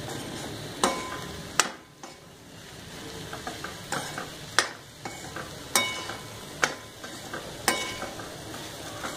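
Boiled banana being stirred into samosa stuffing as it fries in a pan, giving a steady sizzle with repeated sharp scrapes and knocks of the spoon at an uneven pace, close by with no talking.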